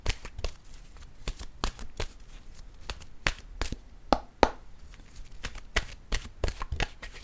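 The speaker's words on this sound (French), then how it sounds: "Je vais déposer maintenant une carte sur une carte de mon oracle de l'âme intuitive" Oracle cards from an intuitive-soul deck are shuffled and laid down, making a string of close, crisp paper snaps and soft taps in an uneven rhythm, with no talking.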